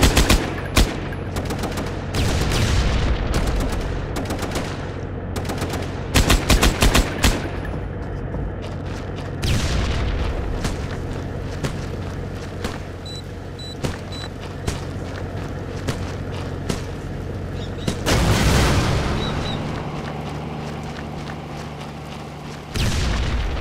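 Automatic rifle fire and heavy blasts fill an ambush in Terrorist Takedown. Dense bursts come in waves, with loud booms around the start and near the end, and sporadic shots in between.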